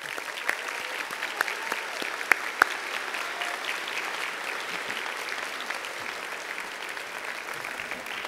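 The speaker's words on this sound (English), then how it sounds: "I want to just ask you to just applaud for those staff members" A graduation audience at Port Townsend High School's 2019 ceremony applauds the school staff: dense, steady clapping from a large crowd that holds for several seconds, with a few sharper individual claps standing out.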